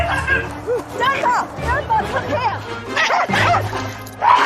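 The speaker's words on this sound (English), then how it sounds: "There's big dogs." Several dogs, big and small, bark and yip in quick overlapping bursts close by, with some whimpering, amid lively human chatter and babble.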